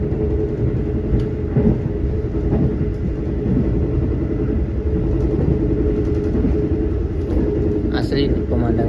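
Rumbling ride aboard the Ranggajati executive passenger train running on rails, a steady low drone and rolling clatter heard from inside the carriage, continuous and fairly loud, with a few faint bumps and clicks.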